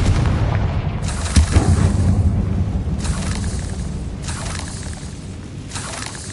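A Confringo blasting spell goes off in Hogwarts Legacy as a loud, broadband explosive burst that rumbles and crackles, then decays into a sustained roar with a few further blasts swelling through the noise, with no voices.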